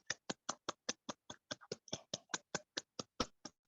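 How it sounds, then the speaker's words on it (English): Hands clap at a Universitas Indonesia Toastmasters Club meeting to welcome the Toastmaster, a quiet, evenly spaced run of about seventeen crisp claps with no voices over them. "Please give round of applause to Toastmaster Kiki."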